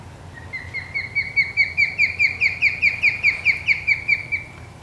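A juvenile osprey repeats a rapid series of high, thin whistled chirps, about fifteen notes in an even rhythm that rise and then fade, clear and close.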